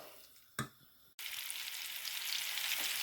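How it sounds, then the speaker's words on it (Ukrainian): Meat patties sizzle and crackle in a hot pan, a steady frying hiss after a couple of soft knocks at the start. "Смажаться котлетки"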